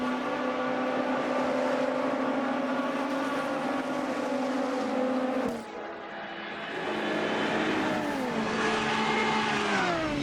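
Race cars lapping Spa in the Automobilista 2 sim, recreating the 2005 24 Hours of Spa: loud sustained engine drone with a brief dip midway, then rising revs as the car accelerates again.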